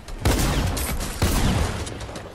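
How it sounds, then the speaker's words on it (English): Shotgun fire in the Fortnite Chapter 2 video game, two loud, close, broadband blasts about a second apart, each trailing off in a short echo. "Oh, stop using that shotgun, I hate that shotgun, bad."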